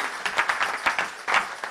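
A church congregation claps and cheers for Jesus at a children's presentation service, with a dense, steady wash of applause and rising shouts throughout.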